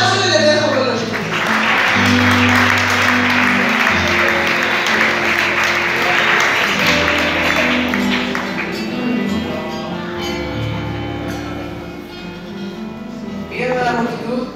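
A church congregation at a children's Three Kings' Day gathering breaks into steady applause for several seconds, a close, dense clatter of many hands that fades out, with a voice speaking over it.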